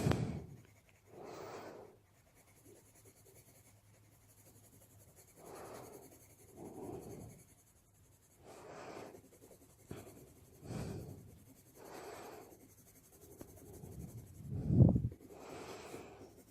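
A brown colored pencil is pressed hard onto paper to blend a darker hatched area of a coloring page. Close, quiet scratchy strokes come in short bursts separated by pauses.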